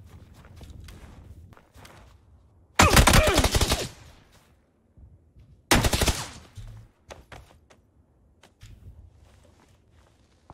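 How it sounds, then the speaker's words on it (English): Gunfire in the battle royale game PUBG: two loud, rapid bursts of automatic fire a few seconds apart, surrounded by quieter footsteps and small movement sounds, with no talking. "I'm trying to find this guy that's shooting at him"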